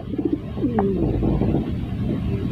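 A pigeon gives a close, soft rolling coo, a single short call over low background noise.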